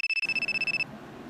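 A phone ringtone sounds close and clear for under a second, a rapid run of about a dozen even electronic beeps that then cuts off into room noise.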